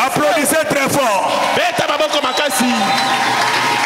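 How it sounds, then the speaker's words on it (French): A church congregation claps loudly during a French-language service, with rhythmic hand claps mixed with a voice and crowd sounds throughout. "Applaudissez très fort."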